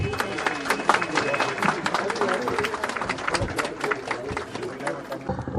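A crowd at a political rally in a tea garden market claps throughout in a dense, continuous patter of hand claps, with some murmuring chatter beneath.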